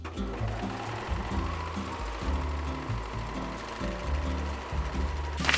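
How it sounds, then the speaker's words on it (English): Serger sewing machine overlocking the side seams of a summer dress, a fast mechanical chatter in short bursts with steady stitching rhythm, close and alone without talk. "we're gonna finish the side seams with a serger or a zigzag stitch"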